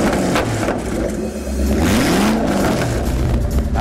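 A Citroen GT car launches and accelerates, its engine rising in pitch and growing louder in a close, continuous revving roar.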